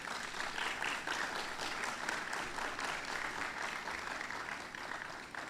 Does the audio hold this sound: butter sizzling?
no